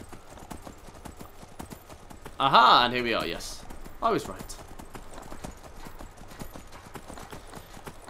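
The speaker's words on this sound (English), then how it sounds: "We'll get off the horse so we can see a bit better." Horse hooves clip-clop steadily while riding through terrain in the Skyrim video game, a soft regular patter running throughout beneath someone talking.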